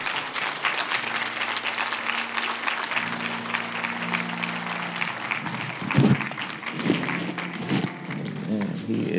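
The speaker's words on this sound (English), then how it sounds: "Give the Lord a hand clap of praise." Steady applause from a church congregation during worship, dense continuous clapping with voices and music murmuring underneath, sustained for several seconds.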